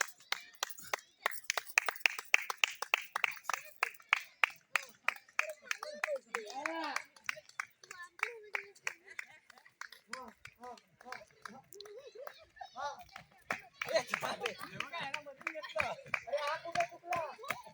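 Children at a village festival clap in quick, uneven rounds, sharp close slaps in bursts over several seconds, mixed with excited shouting and talk from nearby voices.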